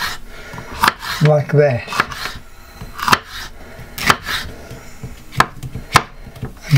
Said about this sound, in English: take just a third of it only and slice it up very thinly